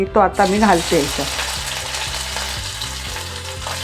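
Onion pieces frying in oil as the tempering for a Malvani koti fish curry: a brief spoken phrase at the start, then a steady, close sizzle that continues alone.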